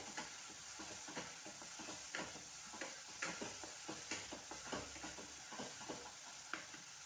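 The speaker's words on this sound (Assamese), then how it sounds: "মছলাখিনি যাতে পুৰি নাযায় অলপ পিছে পিছে লৰাব লাগিব" Masala spices frying in oil for an Assamese boal fish curry, a steady soft sizzle with a regular scrape-and-tap rhythm of stirring in the pan, quiet and close, with no talking.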